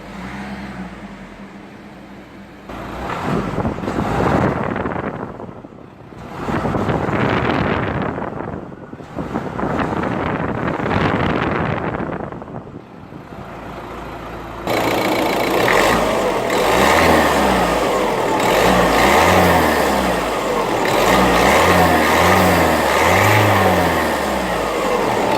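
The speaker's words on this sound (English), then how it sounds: "Not a bad sounding diesel." 2013 Peugeot 3008 diesel engine, not fully warmed up, revved several times: three rising and falling blips, then a run of quick repeated revs, with wind noise on the microphone.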